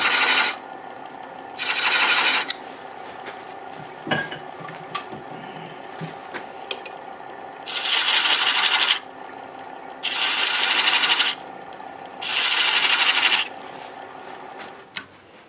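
An old gouge reworked into a beading tool scrapes across wood in four loud, rasping passes of about a second each, with quieter handling noises between them.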